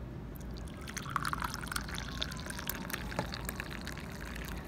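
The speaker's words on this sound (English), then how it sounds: "If you put the hot water on the tea" Hot water is poured onto mint tea and cinnamon, a soft continuous trickle with faint splashes and drips, quiet and close, with no talking.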